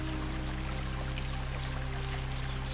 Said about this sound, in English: soft rain outside